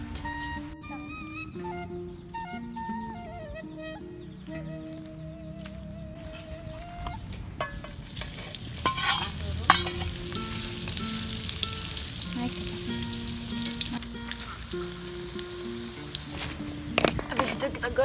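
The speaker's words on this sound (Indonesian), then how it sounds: "jadi kita goreng dulu ikan asinnya, tempenya sama terongnya" Salted fish, tempeh and eggplant fry in a pan, giving an oily sizzle that grows busier and crackles in the second half, with music playing early on and a voice talking over it.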